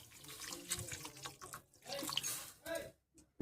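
Water runs into a pot of mutton curry in a home kitchen, a steady splashing pour in bursts with short gaps, close and moderately loud.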